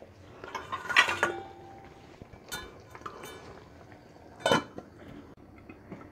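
A lid goes onto a pan of simmering palak paneer, with two distinct metallic clanks a few seconds apart and quieter clinks of cookware between them.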